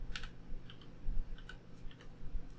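Close, quiet typing on a computer keyboard, a quick run of light irregular key clicks with no voices.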